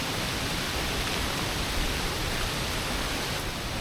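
Strong wind roars steadily through tall trees on a hillside during a rainy trek in the Western Ghats, a dense, even rush with no gusting breaks and no voices.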